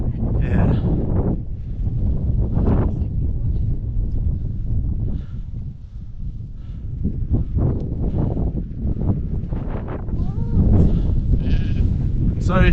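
Sheep bleat repeatedly nearby on a countryside walk near Egton Bridge and Glaisdale, several loud overlapping calls over wind noise, with people talking among them.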